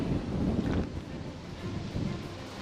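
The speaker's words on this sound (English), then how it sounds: "Pretty windy." Gusty wind buffets a microphone at a harbour where the tall ship Leeuwin II returns to Albany, Western Australia, producing rough low rumbling bursts that swell and ease, with no voices.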